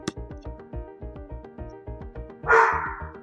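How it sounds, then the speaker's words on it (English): A black lab and other dogs bark loudly and repeatedly in a steady run of sharp, close barks, with a louder noisy burst near the end. "You might hear my dogs. They're pretty loud, and I have a black lab."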